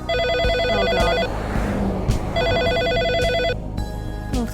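A telephone rings in the video game Always Sometimes Monsters, two loud bursts of a trilling electronic bell separated by a short gap, close and prominent over steady game background sound.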